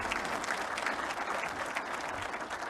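An audience claps at a gathering where Prime Minister Shahbaz Sharif announces an electricity price cut. The applause is fairly faint and distant, a continuous patter of many hands that holds steady for the whole stretch.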